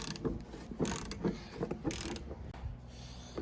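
Barn alley scraper mechanism being run, a close rattling, clanking drive with regular ratchet-like clicks and creaks, then a steadier grinding hum.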